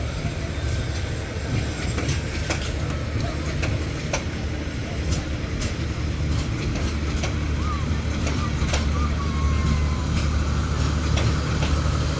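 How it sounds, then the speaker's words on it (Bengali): Passenger train bound for Cox's Bazar, Bangladesh, rolling steadily with a constant low rumble, rhythmic clickety-clack of wheels over rail joints and occasional squeals, heard close by alongside the track. "খুব সুন্দরভাবে যাচ্ছে ট্রেনটি"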